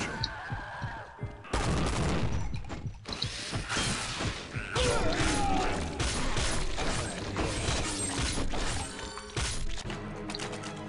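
Gunfire in a shooter video game, with dense bursts of shots and mechanical clattering across most of the stretch, loud and close, with a brief quieter gap near the start.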